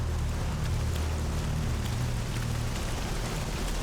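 Steady rain pours in S.T.A.L.K.E.R. Anomaly, a dense, even hiss of drops on the ground with a low rumbling undertone, continuous and fairly loud throughout with no voices.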